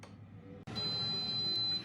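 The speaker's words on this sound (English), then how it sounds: "And the air fryer's beeped" An air fryer cooking chickpeas gives a steady electronic beep tone that holds for about a second after a brief pause, over a low background hum.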